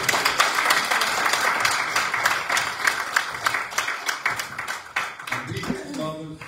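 Congregation clapping in a church during a morning service, a loud burst of many hands with distinct sharp claps that thins out before voices take over.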